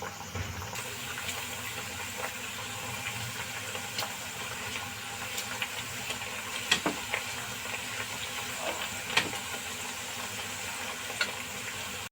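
A batch of homemade biscuits fries in hot oil with a faint, steady hiss and a few scattered small pops and crackles, and no talking.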